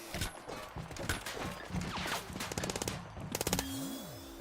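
Rapid automatic gunfire in the shooter Combat Champions, quiet and somewhat distant, with fast rattling bursts building toward the end amid other game sounds.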